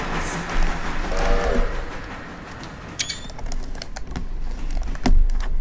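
A train rolling in the railroad simulation game Railroader gives a steady low rumble and rail noise with a few clanks, one short horn-like tone early on and a sharp metallic knock near the end.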